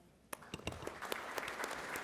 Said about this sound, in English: Oh, I just clapped for myself.